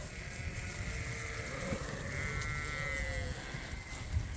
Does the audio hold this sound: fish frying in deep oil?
no